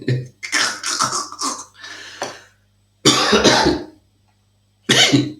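Repeated harsh coughing fits from one person, several rapid coughs in bursts with short pauses between, loud and close.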